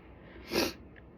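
A single short, sharp nasal sniffle or sneeze-like snort, close and brief, rising and falling quickly.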